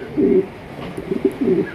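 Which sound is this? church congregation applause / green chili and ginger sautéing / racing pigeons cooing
racing pigeons cooing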